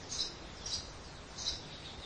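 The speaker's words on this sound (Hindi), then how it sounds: "ये चिड़ियों की चहचहाहट तुम कितनी देर सुन सकोगे?" Faint birds chirp in a quiet setting, three brief high tweets spaced apart over a soft background hiss.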